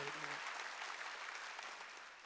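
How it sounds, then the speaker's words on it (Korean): Church congregation at a Wednesday worship service applauding together, steady close clapping from many hands that carries on evenly after a short spoken cue. "박수."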